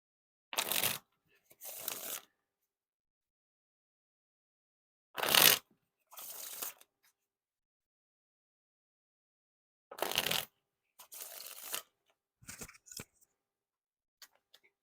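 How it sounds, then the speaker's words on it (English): Three pairs of quick riffle shuffles of Ellusionist Authentic Rockets playing cards, each a short crisp ripping flutter followed by a softer settling bridge, separated by silence. "Now time for the riffle shuffle or bridge shuffle."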